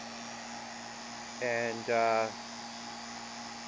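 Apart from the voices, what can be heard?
vacuum pump running on heated oil regeneration module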